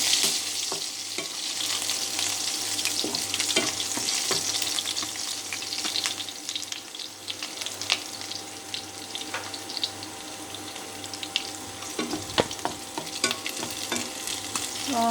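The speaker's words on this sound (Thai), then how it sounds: "จากนั้นเราก็ใส่ในส่วนของ กระเทียมสับพริกสับลงไปเลยค่ะ ใช้น้ำมันตัวเดิมนะคะ" Minced garlic and chili sizzle steadily in a little oil in a pan for a Thai stir-fry of eggplant and bell peppers. A spatula scrapes and stirs close by, and sharp clicks break through at times.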